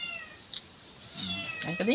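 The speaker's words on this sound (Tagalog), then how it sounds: "Yun yung pusa namin." A pet cat meows several times close by, short rising cries bunched toward the end, while a person murmurs and speaks briefly nearby.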